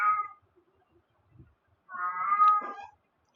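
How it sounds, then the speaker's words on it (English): A house cat meows twice, a short cry and then a longer, drawn-out one after a pause, close and clear in an otherwise quiet room. "my cat's talking."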